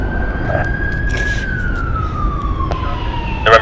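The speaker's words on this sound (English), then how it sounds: "I now hear more sirens off in the distance." An ambulance siren sounds in the distance near a busy international airport, a single steady tone sliding slowly downward across a few seconds beneath faint background rumble.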